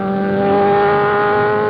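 A Formula B Brabham race car with a 1600cc engine at the 1972 Knox Mountain Hill Climb in Kelowna, BC, holds a loud, steady, high-revving engine drone throughout, close and alone without voices.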